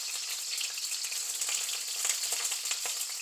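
Garlic cloves and green chilies fry in a pan while a drumstick and jackfruit seed curry is being made, producing a bright, continuous crackling sizzle up close with no talk.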